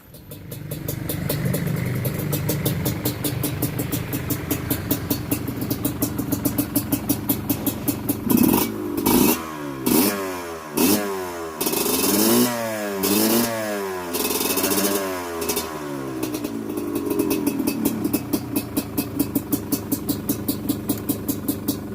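A Honda CRF150L fitted with a two-stroke Kawasaki Ninja engine runs close by. A rapid, buzzy two-stroke idle rises into several loud revving bursts in the middle, then settles back to a busy idle.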